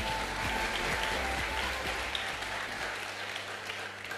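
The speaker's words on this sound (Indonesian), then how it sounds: "Beri tepuk tangan sekali lagi yang meriah." Steady, enthusiastic applause from a crowd at a school orientation launch event in Indonesia, sustained and loud throughout with dense clapping.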